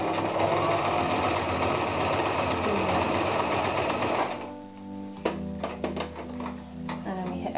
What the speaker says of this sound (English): then we'll begin to sew through